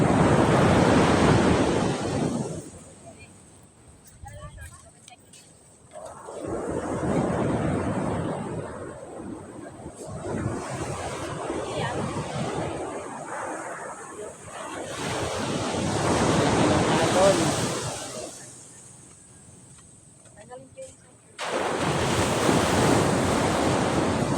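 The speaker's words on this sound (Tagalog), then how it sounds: "Lalaki ng alon sa dagat." Large ocean waves crash and roar in long surges, each swell building and fading, with strong wind buffeting the microphone throughout.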